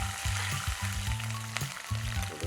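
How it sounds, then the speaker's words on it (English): Cumin seeds, a bay leaf, green cardamom pods and a cinnamon stick sizzle in hot oil, producing a close, steady crackling hiss with a low background hum and no talking. "Once the oil is heated, I am adding 1 teaspoon of cumin seeds, 1 bay leaf, 2 green cardamom pods, 1 inch cinnamon stick"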